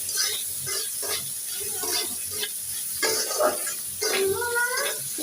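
Chopped, washed greens hitting a hot frying pan in a home kitchen: a steady bright sizzle and hiss with scraping stirs, close and continuous, under intermittent background voices.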